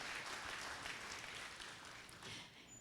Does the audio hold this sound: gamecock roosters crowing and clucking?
no